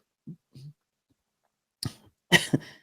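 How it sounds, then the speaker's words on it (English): A couple of sharp, harsh coughs burst out after a quiet stretch with a few faint low sounds, close to the microphone. "I'm coughing like crazy"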